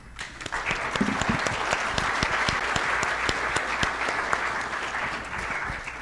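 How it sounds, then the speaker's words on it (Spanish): Audience at a mining industry panel applauding, a sustained wave of clapping that swells within the first second and holds steady, with crisp separate claps standing out, and no speech. "Al final voy a medir los aplausos"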